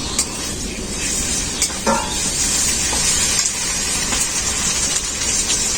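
A paste of ground whole coriander, cumin, black peppercorns, dried red chili and green chili is stirred into hot oil with onions, giving a steady, close sizzle and hiss with brief scraping stir sounds.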